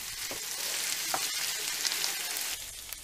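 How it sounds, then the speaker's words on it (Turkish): Chopped aubergine sizzles steadily in a hot pan while a utensil scrapes and stirs, loud and close, with the hiss easing near the end. "Kavururken sürekli karıştırmamız gerekiyor."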